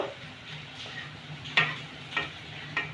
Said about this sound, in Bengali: ধনে গুঁড়ো জিরে গুঁড়ো আর একটু গরম মশলা সব রেখেছি সবগুলো আমি দিলাম মশলাটাকে একটু আমি কষে নেব